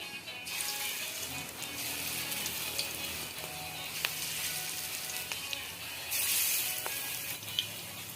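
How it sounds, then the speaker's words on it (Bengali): Spice-coated pieces dropped into hot oil sizzle loudly and steadily, with scraping stirs and a brighter burst of frying partway through, no one speaking. "মাখানো হয়ে গেছে, আমি এবারে গরম তেলে ছেড়ে দিচ্ছি।"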